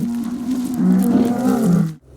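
Fighting bulls on a farm let out a deep, loud, drawn-out bellowing moan, wavering in pitch, close by and alone, before it cuts off abruptly.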